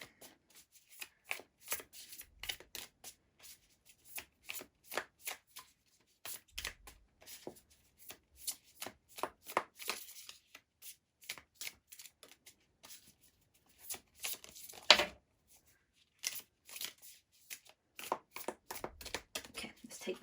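A tarot deck is shuffled by hand over about twenty seconds in quiet surroundings, giving repeated crisp riffles and flicks in irregular bursts, with one louder card slap partway through.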